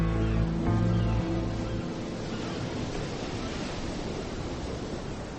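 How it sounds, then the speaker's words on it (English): Sea waves roll in a steady, broad wash of surf, a soft continuous roar that follows a brief low musical tone at the start, with no voices. "The waves rolled by as they had always done."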